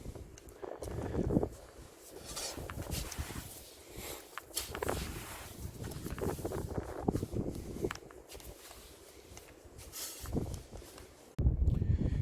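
Steady wind blowing over an open beach in Gironde with a rising tide, a continuous rushing roar with gusts and scattered rustling, loud and close.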